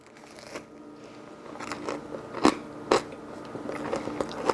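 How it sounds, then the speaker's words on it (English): Crunchy homemade tater tots bitten up close, with a few sharp crisp crunches standing out over steady chewing noise, no talking. "I think you could hear that crunch."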